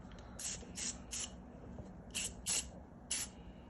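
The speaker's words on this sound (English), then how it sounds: "you're going to spray it all inside of the bearing to remove the grease" Several short bursts of hissing degreaser spray from an aerosol can into a bearing, close by, in quick pairs and singles with brief pauses between.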